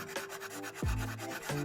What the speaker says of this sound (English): for the more delicate shaping, I switched to hand files, and for the inside of a ring, a half-round file is really the only one that makes sense